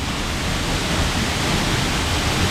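Tat Hua Suea waterfall rushes in a steady, dense roar of falling water, loud and unbroken from start to end.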